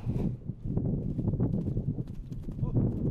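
Stallions in a stallion barn at a large horse-breeding farm, hooves clip-clopping in a steady, close series over a hard floor, with a person speaking over the sound.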